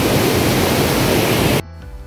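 The tall Kalu waterfall pours down in a loud, dense, continuous roar close by, then cuts off abruptly near the end, leaving a faint tonal background.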